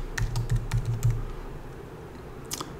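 Keys clatter on a Commodore 64 keyboard in a quick run of close, clacky keystrokes with audible low thuds, then a pause and a final pair of taps, no speech.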